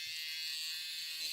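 A cheap rechargeable electric hair trimmer running steadily, a continuous thin high-pitched motor whine, close and moderately quiet, unbroken throughout.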